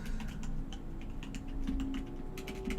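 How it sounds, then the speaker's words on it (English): Quick irregular clicks of fingers typing on a notepad device keyboard, close and steady, over a faint low background hum. "I'm typing these out on my notepad"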